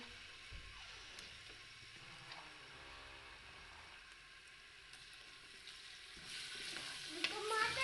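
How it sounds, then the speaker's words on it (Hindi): Ginger-garlic paste sizzling and frying in hot oil inside a pressure cooker while cooking Peshawari namkeen gosht, a steady crackle that swells louder and harsher toward the end. "इसमें अब जो है मैं अदरक लहसुन का पेस्ट शामिल कर दूँगी"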